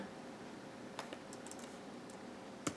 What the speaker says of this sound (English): Type my name.